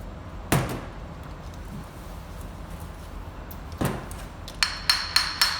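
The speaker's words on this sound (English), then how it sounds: "Gently tap it from the underside." A denture flask packed with soft reline material is tapped from the underside, giving a few sharp knocks spread apart and then a quick run of four lighter taps near the end, close and clear over quiet room tone.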